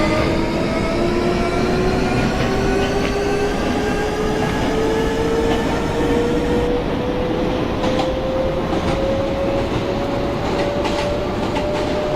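A Manhattan-bound R subway train runs through an underground tunnel with a steady rumble and rattling wheels, while a rising motor whine climbs slowly in pitch throughout.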